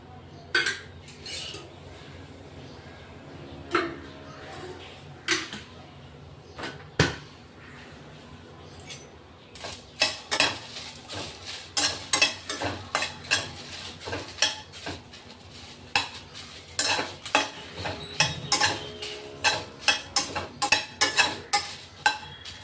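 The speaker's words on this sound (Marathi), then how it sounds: "थोड्या मिरच्याही परतून घेणार आहेत आपण. थोडं तेल टाकायचं." Green chillies roasted in a little oil in a pan, with a soft background sizzle and repeated metal spatula clinks and scrapes that grow busier and more rhythmic partway through, close and fairly loud, no speech.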